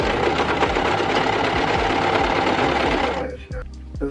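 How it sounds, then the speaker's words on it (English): A sewing machine runs a straight stitch along a rolled dress hem in sheer and satiny fabric, a rapid steady mechanical chatter close by that slows and stops near the end. "I'm just gonna make a straight stitch all the way around to hem it."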